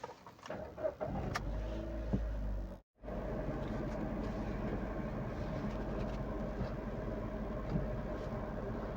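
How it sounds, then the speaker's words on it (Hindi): A car pulls out and is reversed, its engine droning steadily with a low rumble and faint rattles, briefly cut out for a moment before the hum resumes and continues evenly. "सबसे पहले अपनी गाड़ी को मैं बाहर निकालता हूँ"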